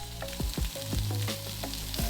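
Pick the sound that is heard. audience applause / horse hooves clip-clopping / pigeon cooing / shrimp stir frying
shrimp stir frying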